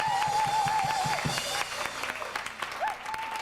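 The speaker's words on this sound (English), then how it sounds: "I'd like you all to join me in giving a warm round of applause to our star," An audience gives Eva Cassidy a warm round of applause: a loud, steady wash of clapping throughout, with a wavering whistle-like tone riding over it at times.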